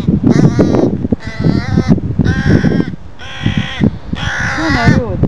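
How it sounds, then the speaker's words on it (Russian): Crows caw loudly and close in five harsh, drawn-out calls with short gaps between them, one crow calling over another that lies on the ground. "Это когда ворона пытается реанимировать другую ворону."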